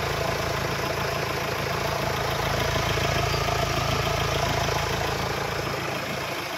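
A 2015 Mahindra XUV500 W10 engine idles close by with a steady, even mechanical hum and faint ticking, unchanging and alone throughout.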